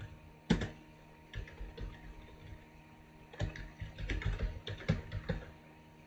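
Fingers type on a computer keyboard in irregular clusters of quick clicks with short gaps between runs, close but fairly quiet, with no speech.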